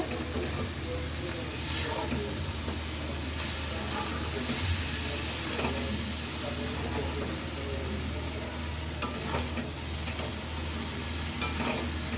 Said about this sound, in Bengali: এখন এই সবজির সাথে ভালো করে নুডলসটা মিক্স করে নেব।